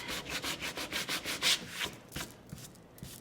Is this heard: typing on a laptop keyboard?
no